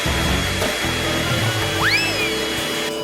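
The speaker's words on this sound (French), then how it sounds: "Ton sèche-cheveux fait voler tous les grains vers moi." Hair dryer blowing steadily on popcorn kernels on a plate in a kitchen, a continuous close whooshing whine with a brief pitch sweep partway through.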